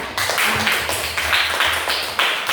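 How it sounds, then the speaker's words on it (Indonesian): A small group clapping for a classmate in a classroom, a short burst of close, fairly loud hand claps in uneven rhythm. "Oke, tepuk tangan dulu untuk Mela."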